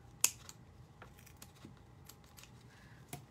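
Scissors snipping the thread tails on a painted shamrock door hanger craft, a single sharp cut near the start followed by faint, scattered clicks in a quiet room.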